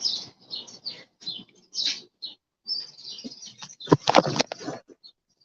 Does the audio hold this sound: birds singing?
yes